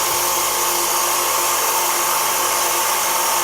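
A custom-made budget rock cutter and polisher runs with a loud, steady high-pitched motor whine and grinding hiss that holds constant from start to finish, close up, with no talking.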